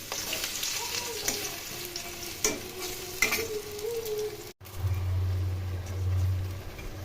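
Bak flower pakora fritters frying in hot oil in a kadai, a steady close sizzle with a few stirring knocks, the bubbling becoming louder and fuller after a short break.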